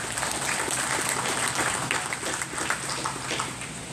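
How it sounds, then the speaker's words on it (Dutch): A crowd gives loud, sustained applause for a completed drinking water project in Commewijne, dense clapping from many hands filling the whole stretch without pause. "Mag ik een hartelijke applaus voor dit gerealiseerde project?"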